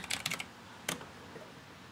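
Keystrokes on an Aukey gaming keyboard: a quick burst of several clicky taps, a pause, then one more sharp press, close and fairly quiet with no talking.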